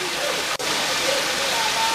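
A waterfall roars as a steady, dense wash of rushing water that fills the whole stretch, with people talking faintly over it.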